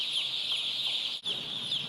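Day-old chicks in a poultry shed cheep in a dense, constant chorus of high peeps, with a brief break partway through.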